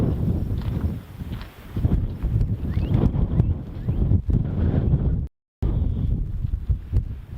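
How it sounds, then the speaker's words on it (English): Strong gusty wind at Palo Duro Canyon, Texas, roaring and buffeting the microphone in uneven bursts, with a brief dropout of silence partway through. "This wind is something else, isn't it?"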